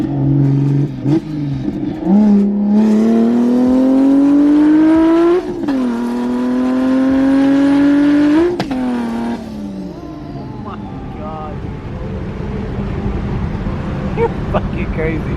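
A BMW E92 M3 with an 18-pound boosted setup and wastegate revs hard up and down in loud, rising sweeps over about nine seconds, then drops to a rough idle with people talking nearby.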